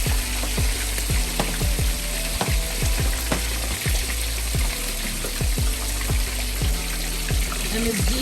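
Garlic shrimp stir-frying in a wok with pepper and salt, a loud constant sizzle broken by repeated quick scraping swipes of the spatula in a steady rhythm, close and without talk.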